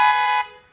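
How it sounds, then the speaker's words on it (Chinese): A Volkswagen Touareg gives one short, loud horn blast lasting under half a second, a bright sustained tone that cuts off and fades quickly. "来，喇叭，"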